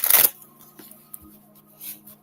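A quick burst of tarot cards being riffled and shuffled, followed by softer scattered card slides and taps against a quiet background with a faint hum.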